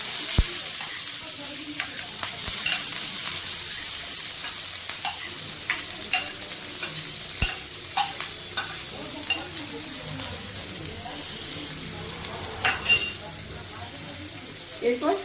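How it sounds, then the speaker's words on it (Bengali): Chopped onion frying in oil with bay leaf, green cardamom and whole cumin for an egg curry, a steady hiss and sizzle with occasional stirring clinks and scrapes, and a voice talking faintly underneath. "তেজপাতা, ছোট এলাচ আর গোটা জিরে আমি এবার তেলের মধ্যে দিয়ে দিলাম। এরপর দিচ্ছি"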